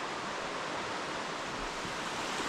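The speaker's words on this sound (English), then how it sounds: "Here we are at the side of the river. As I say, it's quite fast flowing actually" Fast-flowing river water rushing along the riverside between Millers Dale and Chee Dale, a dense, steady broadband roar heard close and unbroken for the whole stretch.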